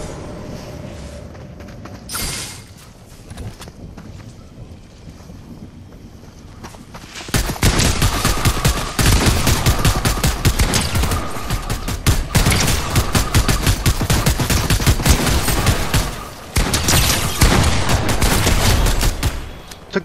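Dense Fortnite gunfire erupts after a quieter stretch, with rapid bursts and automatic fire crackling almost continuously for the last twelve seconds, loud and close, with brief gaps between volleys.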